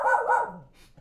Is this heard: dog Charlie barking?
yes